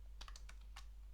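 A few quiet key presses on a computer keyboard, including the enter key, in a Debian Linux terminal. They come as several short, crisp clicks over a low steady hum.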